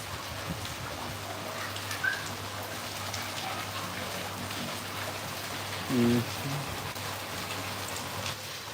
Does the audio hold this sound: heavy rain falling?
yes